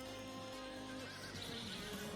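Horses whinny in Farming Simulator 22 during stable chores on Calmsden Farm, one loud, close neigh over a steady game-ambience hum, with faint hoof clops.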